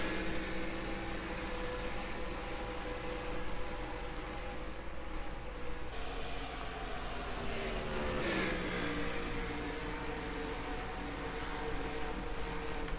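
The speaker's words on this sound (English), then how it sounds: "So 22 cars out there on the racetrack, a typical field for the Canadian Series." Race cars in a 22-car Canadian Series field on the racetrack, a continuous engine drone with rising and falling pitch as cars pass, steady and fairly loud throughout.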